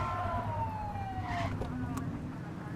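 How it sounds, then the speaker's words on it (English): In a video game, a police car siren gives a brief falling wail over steady engine rumble, with a short upward chirp near the end. "Get on their tail and blip the siren."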